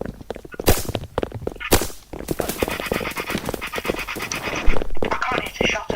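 Rapid bursts of gunfire in a Roblox airsoft battle game, sharp repeated shots crackling loudly throughout amid constant game noise, with voices talking over the action.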